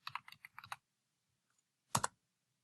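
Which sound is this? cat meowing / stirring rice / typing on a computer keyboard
typing on a computer keyboard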